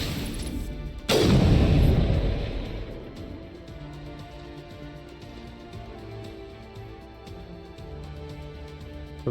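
One loud, close gunfire blast in the video game Mass Effect, followed by a rumbling decay into a steady low background hum with no further shots.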